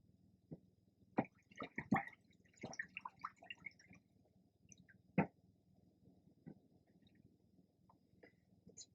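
Water splashing and dripping in a shaving bowl, a faint, close series of small splashes and trickles clustered early, then sparse drips in a quiet room.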